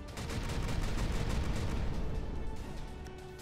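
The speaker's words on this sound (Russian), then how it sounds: "Пушки." Battleship cannons fire in the video game Final Theory, a dense run of rapid booming shots and blasts layered over each other. The barrage stays loud and continuous, with no voices.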